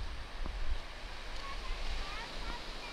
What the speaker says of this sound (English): Nice waves today.